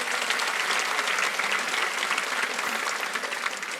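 A church congregation applauds during a Sunday worship service, a dense, steady wash of clapping from many hands that fills the room for the whole stretch without letup.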